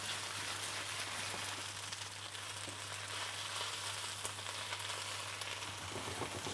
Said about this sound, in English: On this spinach, just a touch of butter to the pan, and a little bit of salt.